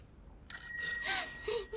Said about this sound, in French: Ah, la sonnette.